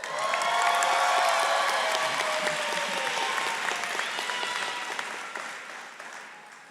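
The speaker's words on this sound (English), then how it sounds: "this is the time that you are welcome to cheer and scream for your graduate" A large audience at a College of Veterinary Medicine graduation ceremony bursts into sustained applause with some cheering, swelling quickly, then slowly tapering off over several seconds.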